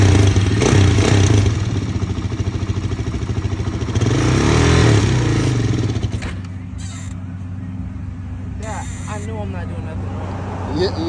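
A 400 motorcycle engine revs loudly and unevenly up close as a beginner rider works the throttle, the rumble swelling and then settling to a lower idle, with people talking over it.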